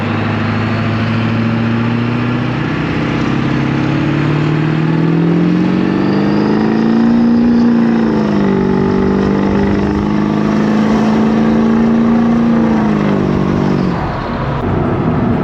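A 7.3 Powerstroke diesel van drives along with a loud, steady engine drone that rises and falls gently as it cruises, heard from inside the cabin with the windows down, with no talk over it.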